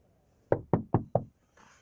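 Four firm knocks on a door, quick and evenly spaced, close and sharp against an otherwise quiet background.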